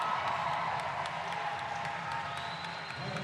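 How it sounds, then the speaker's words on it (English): A roller derby crowd at a London Rollergirls bout against Steel City cheers and claps in a steady, dense wash of noise, fairly loud and continuous throughout. "Crowd is cheering."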